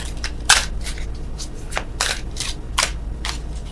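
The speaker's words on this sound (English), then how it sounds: "Oh, worst shuffling in the world." Tarot cards are shuffled by hand in a series of crisp, riffling bursts, roughly eight quick flutters at irregular intervals, close and clear with no talking.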